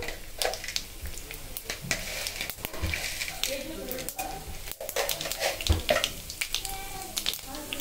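Tempering seeds and dried red chilies sizzling and crackling in two spoons of hot oil, with frequent sharp pops and spatter bursts over a constant fry, fairly close.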